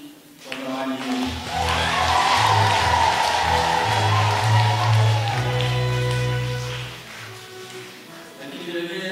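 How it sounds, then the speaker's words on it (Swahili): A church congregation at a confirmation service breaks into sustained applause, swelling to a loud, even roar of clapping and then fading, with a voice speaking over it at the start and end. "Tunaomba tumpigie Mungu makofi kwa zawadi hii"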